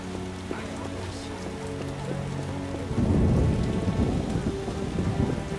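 In The Witcher: Enhanced Edition, heavy rain and rolling thunder begin under faint game music, then swell into a loud, dense downpour with a low rumble partway through.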